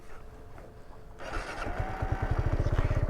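A 125cc motorcycle engine climbing from a low idle to full throttle near 10,000 RPM, its pulsing roar growing louder and faster until it pounds out a rapid, throbbing beat close by.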